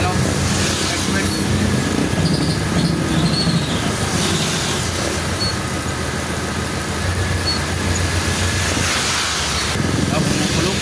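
Sudden heavy rain heard from inside a car stuck in traffic near an intersection, a loud continuous hiss and roar of water on the vehicle that fills the whole stretch with a low rumble underneath.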